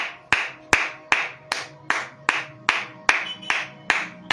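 Congregation clapping in time during a church worship service: about a dozen sharp, evenly spaced claps at a brisk steady beat, close and clear with no voices.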